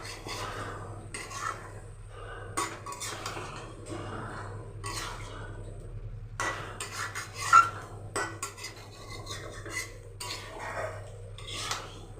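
A spatula scrapes and stirs through chicken frying in a pan in short, irregular strokes, fairly quiet with a faint sizzle beneath.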